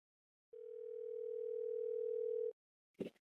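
Phone call ringing tone: a single steady electronic tone held for about two seconds, clean and moderately quiet, then cut off and followed by a brief soft thump.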